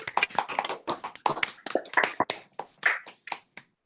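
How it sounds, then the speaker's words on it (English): A scattered round of applause from video meeting participants, uneven claps from several unmuted people overlapping and then thinning out to a few last claps. "let's all unmute for a moment, if we can, to do a round of applause"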